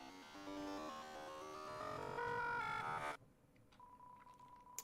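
Garbled static from a cell phone call in the Deltarune video game, a dense jumble of overlapping tones and noise that cuts off abruptly, leaving a faint hum with a thin sustained tone and scattered clicks.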